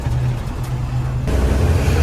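Steady road traffic of cars and buses near the Bhadrachalam bus stop: a continuous low engine rumble and broadband road noise that swells louder about halfway through.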